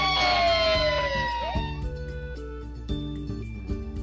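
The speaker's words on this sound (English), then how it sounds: "He hears the loud wail of a fire truck siren" A siren wails loudly, sweeping downward in pitch and fading out, while soft music with steady notes plays underneath.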